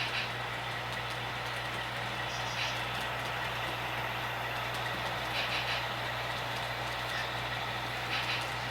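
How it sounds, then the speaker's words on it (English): A model train pulled by a Broadway Limited RSD 15 locomotive with an F7 behind it runs steadily on a layout, a constant low hum and rumble with light rail noise and occasional faint clicks, no talking. "This train is being pulled by a RSD 15, a Broadway Limited,"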